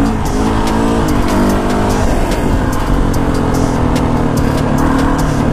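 A Yamaha YZ450 motorcycle engine is test ridden outdoors, with a loud, steady engine drone close by that rises and shifts in pitch as the revs climb and fall, with no voices.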